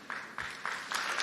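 Audience applause rises at a college commencement ceremony, a soft, fairly distant patter of many hands arriving in a few surging waves over a brief moment.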